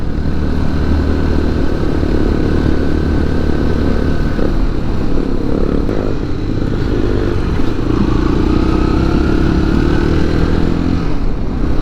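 Motorcycle ridden along a rough forest trail in a nature reserve, its engine droning loud and close throughout with steady throttle, shifting pitch slightly midway, plus rattling and clatter from the bumpy ground.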